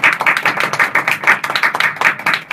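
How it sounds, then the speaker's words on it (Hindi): A crowd claps steadily and loudly in rhythmic bursts at a Bhojpuri birha stage contest, welcoming a performer onto the stage, with no talking over it. "जोरदार ताली हो जाए झगड़ू भैया के लिए।"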